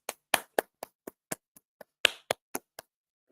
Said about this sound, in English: Make una clap for myself